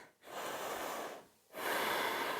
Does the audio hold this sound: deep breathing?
yes